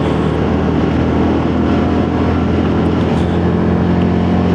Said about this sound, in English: Build the revs up and change up.